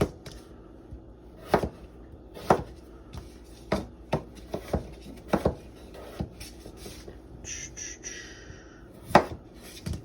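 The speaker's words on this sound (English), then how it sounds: "we're going to chop them in half" A knife chops peeled potatoes into chunks on a cutting board, sharp irregular cuts landing close by in a quiet kitchen, with a short scraping rub near the end.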